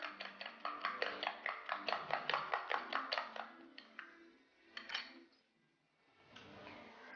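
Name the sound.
whisking separated eggs in a bowl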